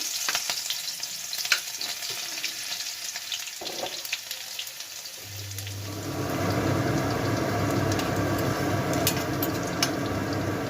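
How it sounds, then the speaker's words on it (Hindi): Garlic frying in a pan for a prawn and kochu saag curry, a light crackle that swells into a steady, loud sizzle after about five seconds, with occasional stirring scrapes and no talk. "लहसुन थोड़ा सा भून जाए उसके बाद हम डालेंगे प्याज"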